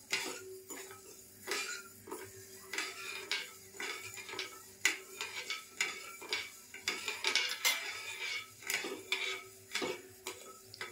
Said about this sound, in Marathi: साखर आता वितळल्यावर 2-3 मिनटं ठेवायचं असं ढवळत